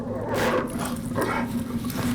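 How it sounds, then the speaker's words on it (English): Dogs in a haunted house radio drama, a loud, close pack sound of yips and whimpering barks over a steady low hum, brief and without talk. "Ghost dogs, they're here!"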